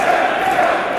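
A wrestling crowd at Rev Pro Uprising 2016 chants for Jeff Cobb, a loud, dense roar of massed voices sustained without a break throughout.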